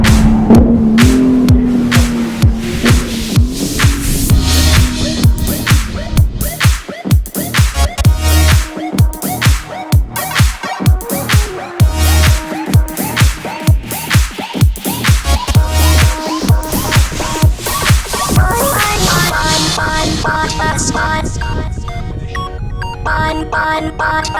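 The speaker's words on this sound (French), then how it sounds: "Ici le M2 compétition." A BMW M2 Competition laps a race track at a BMW M club event, its engine revving up and down repeatedly through gear changes with sharp shifts and a rhythmic pulsing drone, loud and close for the full stretch.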